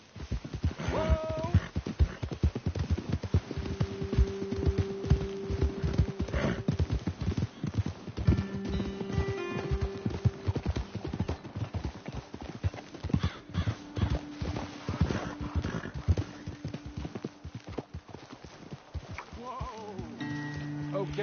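Steady clip-clop of horse hooves throughout in the video game Red Dead Redemption 2, with a horse whinnying and faint tonal music in the background.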